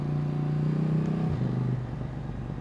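Motorcycle engine close by on the Col du Galibier mountain pass, a steady low throaty drone that shifts pitch downward partway through as the revs change, loud and alone.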